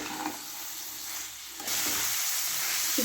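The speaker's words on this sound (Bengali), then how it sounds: "নুন দিয়ে ভালো করে নেড়ে নেব" Chopped onion stalks for a curry sizzle and fry steadily in hot oil in a pan as salt is stirred in, a continuous close hiss that grows louder partway through.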